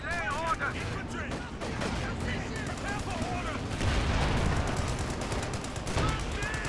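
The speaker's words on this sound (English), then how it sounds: "More shots, more explosions." An artillery barrage and gunfire in the World War II strategy game Company of Heroes 2 come through as dense, continuous bursts of shots and booms, with game voices and talk over the fighting.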